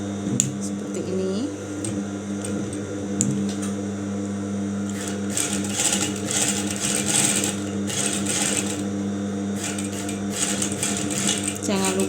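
A sewing machine stitches a seam, whirring steadily and continuously close by, with its rhythmic mechanical chatter picking up intensity midway through.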